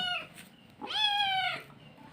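House cat giving two meows, a short faint one followed by a longer, louder rising-then-falling meow, close by in a quiet room.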